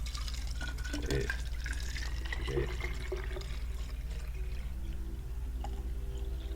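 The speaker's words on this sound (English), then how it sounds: "So I'm going to put that water in there." Water is poured into a drink of apple cider vinegar with turmeric and black pepper, a quiet trickling fill with faint drips, heard close up but softly.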